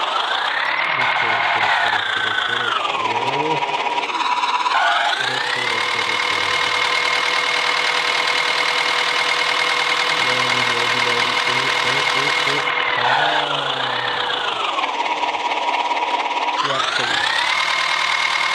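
A tractor engine starts and runs in a mobile driving game, with a continuous loud drone whose pitch rises and falls as it revs, dips and settles several times, and no voices over it.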